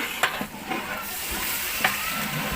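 Splash of water added to hot oil in a wok while fish biryani masala is stirred: a steady frying sizzle with sharp scraping clicks from the stirring spoon, close and moderately loud, no talk.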